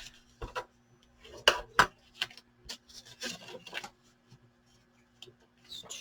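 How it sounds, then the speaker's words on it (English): Paper being burnished flat while assembling a mini file folder journal, heard as a run of soft rubbing strokes and sharper taps, fairly faint and close, with no talking. "burnish everything"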